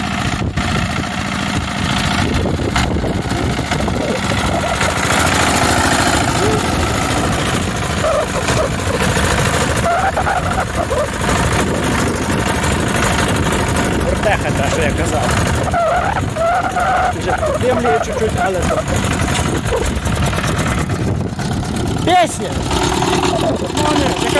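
A twelve-year-old walk-behind tractor engine running loud and close throughout, a continuous rough mechanical drone with uneven knocks, while someone talks over it.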